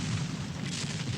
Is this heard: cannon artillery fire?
yes